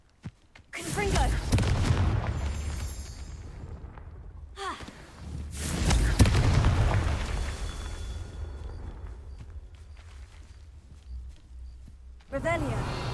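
Fiery spell explosions from the Confringo curse in the video game Hogwarts Legacy, loud booming blasts with rumbling tails, several bursts in succession amid game noise and a voice speaking.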